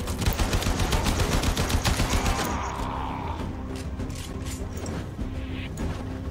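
Rapid gunfire in the video game Warframe, a loud fast stream of shots for a couple of seconds that then breaks into scattered single cracks over lingering game ambience, with no talking.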